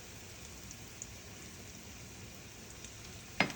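Eggs, bacon and chorizo frying in a pan give a steady, faint sizzle and crackle throughout, with a sharp clink of a utensil near the end and no voices.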